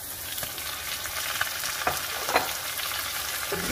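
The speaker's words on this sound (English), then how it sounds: "continue to saute and brown the meat and the onion together" Beef, onion and tomato sautéing in a pan for carne guisada. A loud, continuous sizzle runs throughout, with a few brief stirring scrapes cutting through.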